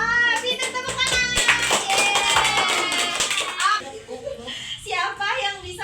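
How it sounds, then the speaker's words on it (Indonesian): Children clap their hands in a classroom religious lesson, a few bursts of quick clapping mixed with young voices talking and chattering over and between the claps. "Pintar tepuk tangan."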